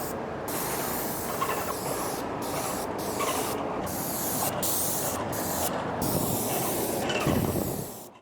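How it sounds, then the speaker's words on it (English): Halcyon satin finish sprayed onto wooden pieces in a steady close hiss, broken by several brief pauses between passes, ending abruptly. "spraying on 2 coats of halcyon satin"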